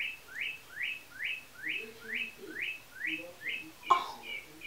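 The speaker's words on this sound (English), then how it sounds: "Oh, do you guys hear the bird?" A bird chirps a rapid repeated series of rising whistled notes, about ten in a steady rhythm, clear but moderately distant, ending with a short sharp call and faint background murmur.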